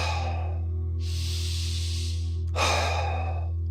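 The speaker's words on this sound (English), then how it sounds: "now we're gonna do strong yogic breathing" Strong yogic breathing, with forceful breaths drawn through the nose and chest, two long loud airy rushes of breath close up, the second stronger and sharper, over a steady low hum.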